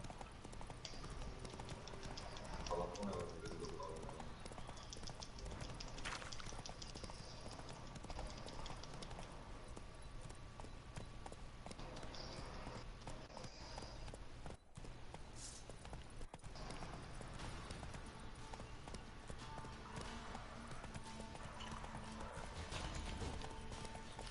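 Horse hooves clip-clop steadily in a PS4 game, a quiet, continuous gallop rhythm under faint background game sound throughout.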